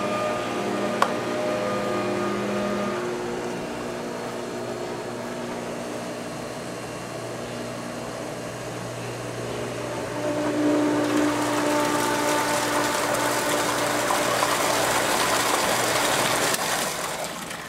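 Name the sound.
DE pool filter system running, flushing water out drain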